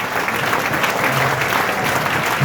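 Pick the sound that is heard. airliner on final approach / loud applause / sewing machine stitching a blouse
loud applause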